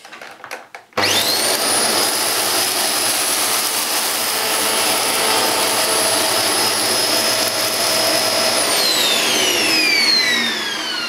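A Hoover Globe GL1103 bagless upright vacuum cleaner switches on after a brief moment of quiet and runs steadily with a loud, even whine and roar close by, with no talking.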